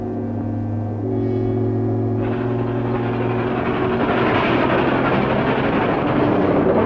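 Passenger train running, its steady low rumble and tonal hum building as it picks up, with broadband rolling noise growing louder and no voices.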